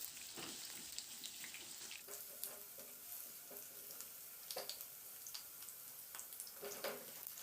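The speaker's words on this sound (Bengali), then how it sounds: "এবার তেলটা গরম হয়ে গেলে আলুগুলোকে ছেড়ে দিয়ে আলুগুলোকে প্রথমে একটু ভেজে নেব।" Potatoes fry in hot oil in a wok, a steady, even sizzle that runs throughout with a few faint scrapes of stirring.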